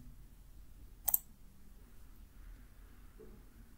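A single sharp mouse click, heard once as a quick double tick, applies a dark theme in ServiceNow Theme Builder; it stands alone against a quiet, low background hum.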